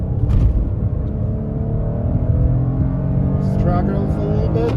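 SUV engine accelerating during a test drive, a steady loud drone that rises gradually in pitch as the vehicle gains speed, heard from inside the cabin with someone speaking over it.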